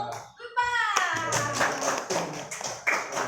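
Elementary classroom at an Islamic primary school, a class clapping hands in applause during a teaching session; dense, ragged clapping mixed with children's voices and a teacher talking over it.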